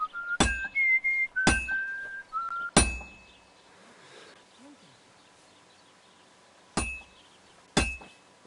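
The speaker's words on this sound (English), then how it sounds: "Sometimes I'll whistle to myself to keep the rhythm going." In a medieval blacksmith's forge, a tuneful whistle plays short notes between loud, ringing hammer strikes on a sword blade, several evenly spaced blows with quiet gaps and faint background murmur.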